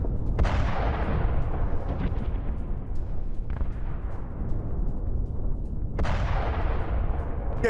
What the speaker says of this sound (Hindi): रूस ने कैलिबर और किंजल मिसाइल दागी